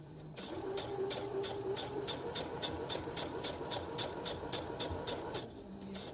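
A sewing machine stitching felt runs steadily and close, its rapid even needle rhythm continuous for about five seconds before stopping, with a faint click at the start and end.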